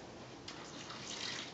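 Water pours into a plastic sandwich bag sitting in a baking tin, a soft continuous trickle and splash heard up close but faint, with no talking.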